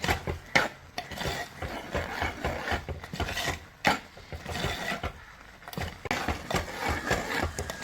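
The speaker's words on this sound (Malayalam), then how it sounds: "നമ്മൾ അരച്ചു വെച്ചിരിക്കുന്ന അരപ്പ് ചേർത്തു ഇത് നന്നായിട്ട് ഇങ്ങനെ ഒന്ന് ഇളക്കി ഇളക്കി ഇതിലൊന്ന് മിക്സ് ആയിക്കോട്ടെ" A spoon scrapes and stirs ground coconut paste into pineapple kichadi in a pan, giving steady rasping, rubbing strokes with occasional sharper knocks against the pan, close and alone.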